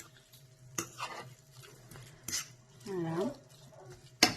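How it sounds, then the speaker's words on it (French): A utensil stirs the stuffing mixture for stuffed zucchini with a few sharp scraping strokes and clinks, close and fairly quiet, while a voice speaks briefly. "Alors, on fait le mélange."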